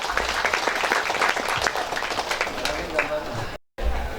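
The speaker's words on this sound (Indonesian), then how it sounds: "mari kita beri tepuk tangannya meriah kepada para khatimin dan khatimat" Lively applause from a gathering at an Islamic school Quran recitation ceremony, dense clapping with voices mixed in, continuing with a brief dropout near the end.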